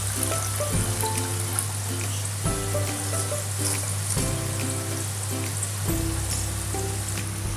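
Badusha sweets deep frying in hot oil give a steady, close sizzling hiss that runs unbroken through the whole stretch, with no voices.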